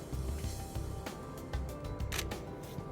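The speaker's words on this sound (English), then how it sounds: "we're about to take our first picture here on the DF" A Nikon Df camera shutter fires in soft, quick clicks amid quiet handling and rustling noise, close to the microphone.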